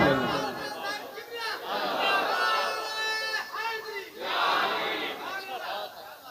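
Large crowd chanting a religious slogan in unison in response to a preacher's call at an Islamic sermon gathering during an urs event, several loud swelling shouts rising and falling across the span.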